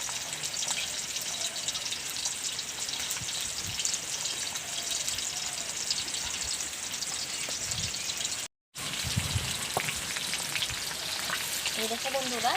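Soaked cumin seeds are ground by hand into a fine paste for a rohu fish curry, giving a continuous close wet scraping and squishing rhythm with one brief pause, no voices.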